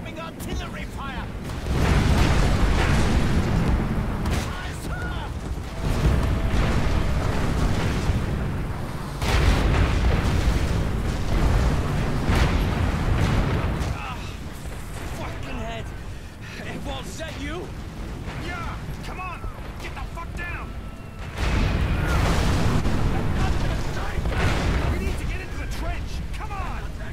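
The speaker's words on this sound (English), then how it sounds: "Incoming artillery fire!" Artillery explosions from incoming fire in the War Mongrels game, a series of heavy, booming low-end blasts rolling in long waves over about half a minute, with shouted voices mixed in.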